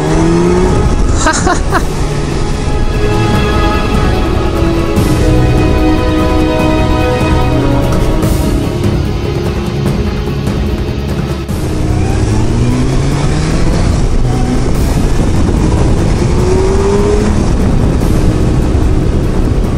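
A Kawasaki Versys 1000 motorcycle engine hums steadily and loud while riding, its pitch rising and falling as it accelerates and shifts, with constant wind noise throughout.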